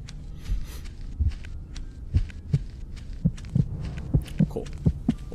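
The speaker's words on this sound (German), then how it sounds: "Okay, ich höre einen Herzschlag." A steady thudding heartbeat in the horror game Screaman, deep and close, pulsing in regular paired beats over a faint ambient hum with no talk.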